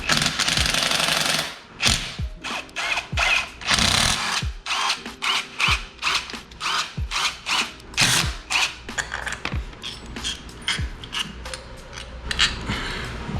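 A power tool rattles off the 8mm clutch cover bolts on a Honda Grom motorcycle in loud, close bursts: one long run, then a series of short stop-start zips separated by brief pauses.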